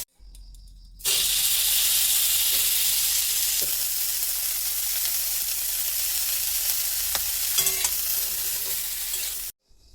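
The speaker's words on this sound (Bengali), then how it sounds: "প্রথমে আলুটা ভেজে নেবে লাল লাল করে তারপর ফুলকপিটা" Potatoes and cauliflower hit hot oil with a sudden loud sizzle that holds steady, with a few stirring clinks, then stops abruptly near the end.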